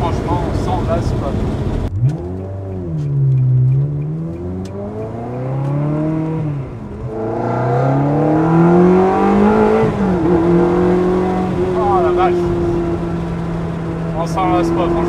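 A Ferrari engine revs while driving, its loud tone sweeping up and down in repeated swells before settling into a steadier, higher note.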